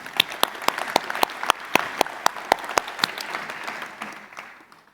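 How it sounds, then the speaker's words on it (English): A conference audience at an AI leadership summit claps steadily, dense applause with sharp individual claps rising through the middle and then tapering off toward the end. "please join me in a round of applause for CEDA for the work they do to get us here"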